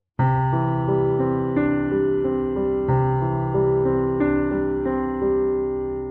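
A piano plays a sequence of chords, each struck note ringing on and blending into the next as the sustain pedal holds them.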